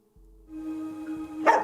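A single dog barks sharply near the end, after a low background hum and tonal drone, with no talk.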